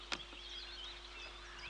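Birds chirp and call faintly in open countryside beside a river, with thin high warbling lines over a steady low background hum and one brief sharp click near the start.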